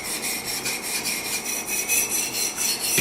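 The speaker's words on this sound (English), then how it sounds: "You just let the stone do the work, especially with diamond." A knife of CTS-XHP steel drawn across a diamond sharpening stone with light pressure, giving steady repeated scraping strokes in an even rhythm, close and moderately quiet, with no talking.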